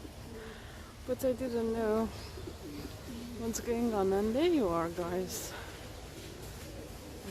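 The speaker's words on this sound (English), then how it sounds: "I just noticed that there's a home for pigeons there. I could hear the cooing" Pigeons at a pigeon house in a park by the ocean, cooing in soft repeated rolling calls close by, with a person talking over and between them.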